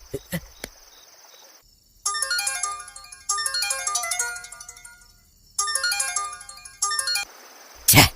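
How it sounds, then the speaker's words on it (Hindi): A phone ringtone plays unanswered in loud, bright melodic bursts that repeat in cycles with short gaps between them. A few clicks and a brief tone come before it, and a sharp noise cuts in at the end. "गुरुजी फोन क्यों नहीं उठा रहे हैं?"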